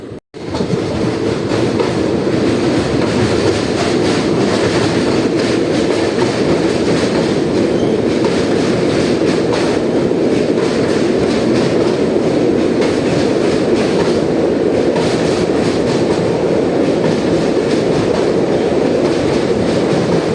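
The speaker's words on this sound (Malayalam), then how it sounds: "ആലുവ റെയിൽവേ സ്റ്റേഷനിൽ നിന്ന് നമ്മുടെ വണ്ടി പുറപ്പെട്ടു" Kannur Executive Express train running steadily after leaving Aluva station, with continuous loud rumble and rhythmic clickety-clack of wheels on rails throughout, heard from inside the moving train.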